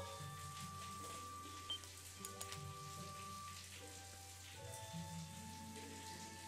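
Steady rain patters and hisses in the video game Tales of Xillia, a soft continuous wash under sustained background music, with no talking.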